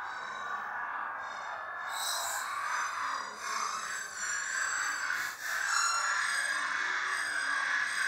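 Mushroom electrical activity converted into sound comes through as a continuous, faint, breathy synthetic wash with slowly shifting tones and soft swells, playing alone.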